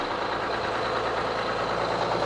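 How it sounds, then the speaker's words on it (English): Bus engine idling just after startup, a loud, even diesel rumble with a continuous low drone and faint knock, close and uninterrupted throughout. "That's your exhaust on startup."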